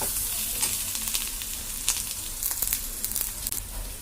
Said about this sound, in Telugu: ఒక స్పూన్ అల్లం వెల్లుల్లి పేస్ట్ వేసుకుని బాగా ఫ్రై చేసుకుందాం